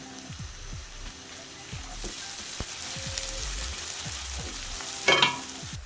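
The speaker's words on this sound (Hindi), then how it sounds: "यहाँ मैंने प्याज को जो है वो ऑयल में शामिल कर दिया है।" Onions sizzle in hot oil and desi ghee for aloo gosht, a steady frying hiss with soft stirring taps and a louder spatter burst near the end.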